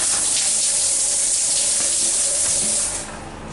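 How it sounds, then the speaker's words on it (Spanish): A bathroom shower faucet runs steadily with a dense, hissing spray of water that stays loud throughout and eases slightly near the end. "una ducha con su respectiva llave funcionando"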